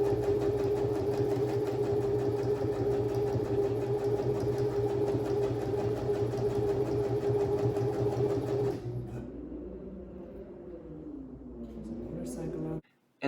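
A home sewing machine stitches super thick fabric in a loud, steady mechanical whir that runs continuously, then drops to a lighter, uneven hum before cutting off abruptly at the end.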